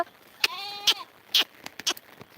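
Several short sheep bleats ring out one after another at close range, separated by brief quiet gaps, with faint background rustle.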